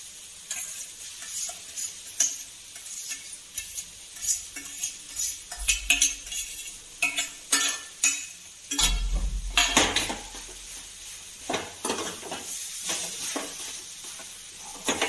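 Metal clatter and scraping of a utensil stirring boiled potatoes in a frying pan, with repeated clinks and soft sizzling, close up and steady throughout.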